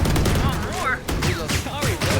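Automatic Phantom rifle fire in a Valorant match, rapid bursts of shots crackling close and loud, layered with in-game effects and players talking over the action.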